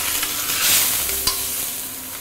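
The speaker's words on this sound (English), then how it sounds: "I'm going to flip the fish over." Fish frying in a pan for a sourish fish soup, sizzling steadily up close with a brief scrape and clack partway through as it is flipped over, no talking.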